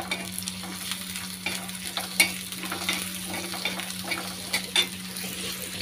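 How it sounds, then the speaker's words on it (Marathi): Green chillies and garlic fry in a pan with browned onion, giving a steady close sizzle broken by occasional scraping stirs of a spoon. "तर आपण मिरची लसूण छान असं फ्राय करून घेऊ"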